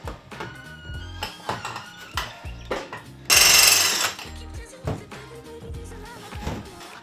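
Harsh, grinding power drill bursts biting into metal while installing plumbing in a vintage Avion camper, loud and close, stopping and starting in short runs, with one longer, shrill high-pitched cut in the middle.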